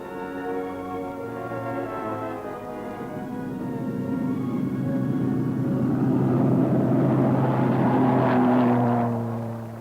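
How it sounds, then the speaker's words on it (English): Propeller engines of a red Heron aircraft of the Queen's Flight drone steadily and swell as the plane passes overhead, with no voices. "He took off in a red Heron aircraft of the Queen's flight,"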